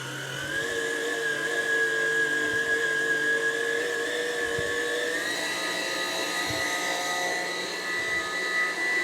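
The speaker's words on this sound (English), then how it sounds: "This will get a bit noisy, but here we go. And then we just whisk that up." Electric hand whisk beating a chocolate Guinness pudding mixture in a bowl, a steady high motor whine with slight pitch drift and brief dips as the beaters move, running alone throughout.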